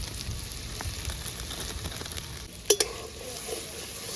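Ground spices with salt, turmeric and Kashmiri chili powder fry in a pan for a fish curry, giving a faint, steady crackling sizzle, with two quick metallic clinks from a utensil near the end.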